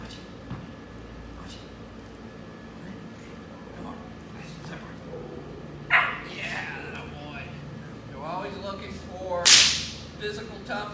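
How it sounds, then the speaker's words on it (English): A whip cracks loudly several times near an eight-week-old dark sable German Shepherd puppy during early protection testing, with the puppy yipping and someone talking over it. "That this noise, the whip, nothing bothers him."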